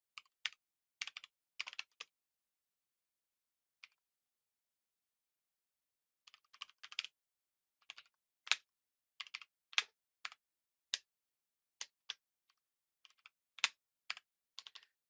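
Code being typed on a computer keyboard, with bursts of crisp key clicks coming close and clear, separated by silent pauses and then speeding into a steady run of keystrokes.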